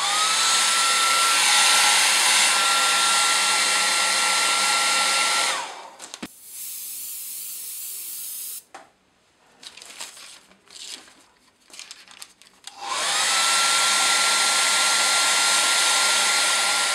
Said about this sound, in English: I'm going to use a hairdryer to dry it quickly as I go.